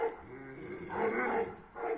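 An Akbaş dog growls and snarls close up while attacking, rough rumbling rising into agitated bursts, like a scuffle in progress.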